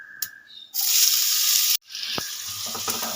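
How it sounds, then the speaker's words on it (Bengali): Chopped onions hit hot oil with whole-spice tempering for a Bengali mustard-oil fish curry, giving a loud burst of sizzling that holds steady, cuts off abruptly, then resumes with stirring clinks and a softer frying hiss. "ফোড়নটা ভাজা ভাজা হয়ে গেছে একটা সুন্দর গন্ধ বেরিয়ে গেছে এবার আমি দিয়ে দেব কুচিয়ে রাখা পেঁয়াজগুলো"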